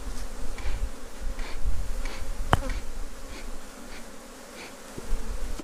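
Dense, steady buzzing of many honey bees close by as a beekeeper slowly shakes a hive frame during the flowering season, with a few faint taps and knocks and no talk.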